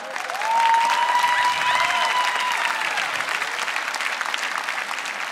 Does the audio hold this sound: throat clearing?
no